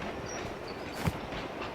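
Train rumble from the BGMI (Battlegrounds Mobile India) game, a steady rolling rail noise with a brief knock near the middle, continuous throughout.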